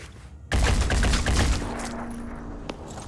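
Gunfire in the tactical game Phoenix Point erupts suddenly as a heavy, rapid burst of shots. It fades into a rumbling tail, and a single sharp report follows near the end.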